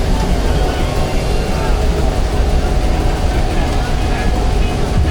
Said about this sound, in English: Here's another William Foster Showman's engine.